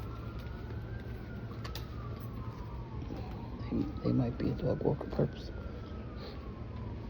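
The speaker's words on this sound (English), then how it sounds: "The siren started first, and then the dog walkers." A distant emergency siren wails in slow rising and falling sweeps, while a person speaks briefly in the foreground partway through.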